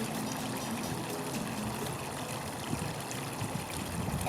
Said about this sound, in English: Here is a fountain in the middle of East Garden.